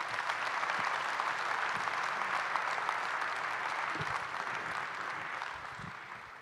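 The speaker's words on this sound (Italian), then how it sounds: "Ne possiamo fare anche un altro eh, di applauso" Listeners at a Gran Loggia 2023 lecture applaud, a full, sustained patter of many hands that stays steady and then eases slightly toward the end, with no voices over it.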